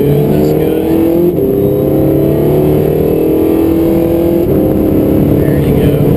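A Can-Am Spyder three-wheeler accelerates smoothly with gradual power, a loud steady engine drone with a faint rising pitch and a brief shift dip, with no talk heard.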